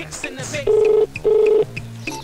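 A phone number is dialed in a Tamil film scene: two sustained keypad tones sound up close, separated by a short gap, over quiet background sound and brief voices.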